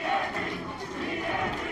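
A wrestling crowd at a Glory Pro Wrestling event roars and cheers in one dense, loud, continuous wash of voices for under two seconds.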